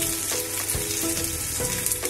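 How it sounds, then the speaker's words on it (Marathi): Whole spices, including cinnamon, cardamom, coriander seeds and cumin, dry roasting in a pan with a steady close crackle and faint scraping, with no talking. "हे सगळं आपण आता भाजून घेणार आहोत"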